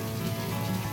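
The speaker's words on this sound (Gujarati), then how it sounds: "પણ વરસાદ ફૂલ પડી રહ્યો" Heavy rain pours down at Sudarshan Bridge near Dwarka, a dense, constant roar of drops filling the brief moment with no voices.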